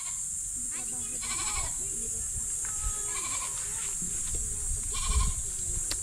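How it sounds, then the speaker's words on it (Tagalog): Goats bleating on a mountain, several short wavering bleats from nearby animals scattered through the stretch, heard beneath people chatting and a steady high-pitched ambient hiss. "Ang dami ditong kambing."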